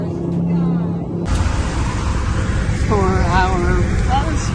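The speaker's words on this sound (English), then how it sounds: "Watch this bus pass us." A bus passes on a curvy mountain road in Nepal, its engine a steady, loud roar heard from inside another vehicle, with excited voices over it.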